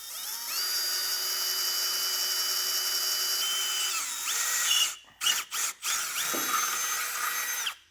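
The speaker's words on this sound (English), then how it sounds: "start out with a smaller bit and just kind of start getting a hole started on these" A power drill with a small bit bores pilot holes for a base plate kit on a 2021 Jeep Grand Cherokee, whining loudly and steadily, then stopping in a few short bursts before spinning up again, with no talk.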